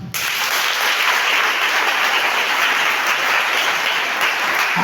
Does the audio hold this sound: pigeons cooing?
no